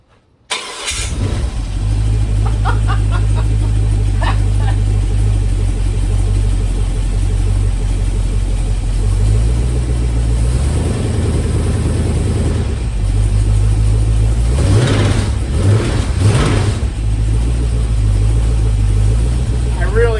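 An LS V8 engine fed by a carburetor, wired with a factory PCM and an Ebay harness, starts and runs loudly nearby. It holds a rough, steady idle, and a couple of throttle blips come near the end.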